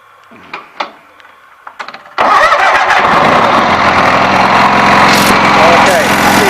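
Cub Cadet 782 lawn tractor engine, fitted with an electric fuel pump, starting up: faint clicks, then a loud catch into a steady, close idle. A voice is heard before it starts.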